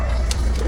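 Pigeons cooing in a loft, a soft low continuous warble with a couple of brief higher chirps, close and steady with no talking.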